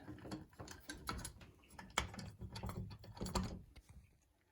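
Door knob set screws being turned in by hand on an interior Kwikset knob, giving soft irregular clicks and small metallic ratcheting ticks close by, with no talk.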